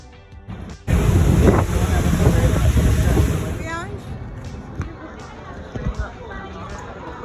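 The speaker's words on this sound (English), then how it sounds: "First we'll be going on a ferry for 45 minutes" Wind buffets the microphone on a ferry ride, a loud sustained roar starting abruptly, with water and engine rumble beneath and people talking nearby, easing off toward the end.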